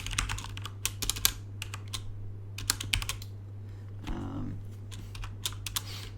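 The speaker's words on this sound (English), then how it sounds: "I'll type it out" Typing Rust code on a computer keyboard produces bursts of close, rapid clacking keystrokes with brief pauses, over a steady low hum, with no talking.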